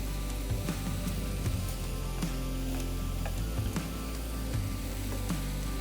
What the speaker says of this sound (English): So I'm going to go ahead and add our Polish sausage.